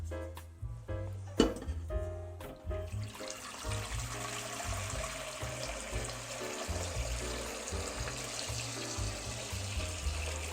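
Tap water runs steadily into a pot to be boiled for pasta, a continuous close hiss and rush after a few clanks at the start, with no voices.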